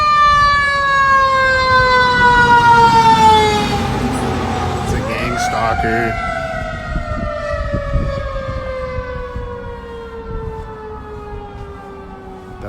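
A fire truck siren wails loudly as the vehicle passes close by, its steady rising tone swelling and then bending downward, while a person speaks over it.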